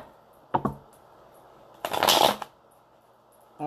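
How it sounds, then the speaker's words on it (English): Close, quiet shuffling of a tarot deck indoors: a couple of soft taps, then one brief riffling burst of cards that lasts about half a second, with silence on either side. "Let me shuffle one more time."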